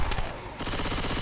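Rapid gunfire from the video game Left 4 Dead 2, a dense burst of automatic shots that fills the brief moment, loud and close with no talk over it.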